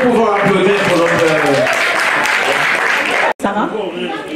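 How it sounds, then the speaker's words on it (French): Audience applause at a couples' gala in Le Mans, a broad steady wash of clapping that runs for several seconds under a voice, with a brief drop near the end. "Est-ce que nous pouvons applaudir pour notre..."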